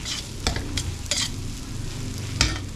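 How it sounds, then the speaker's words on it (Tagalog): Miso being sautéed in a pan gives a soft, continuous sizzle, broken by several sharp scraping strokes from a stirring ladle, with no voices. "Mas maganda kung gigisahin niyo yung miso"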